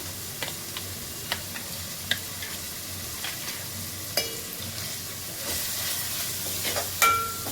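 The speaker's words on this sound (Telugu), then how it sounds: "ఇలా అల్లం వెల్లుల్లి పేస్ట్ కూడా ఫ్రై అవ్వాలి" Ginger garlic paste frying in oil for a chicken curry, a low steady sizzle with occasional sharp ticks and clinks of stirring, growing slightly louder and busier near the end.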